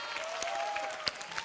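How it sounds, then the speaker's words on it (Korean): Soft, steady applause from a church youth congregation thanking kitchen volunteers, a distant even patter of many hands with a faint tone beneath. "권사님들 박수를 한번 해"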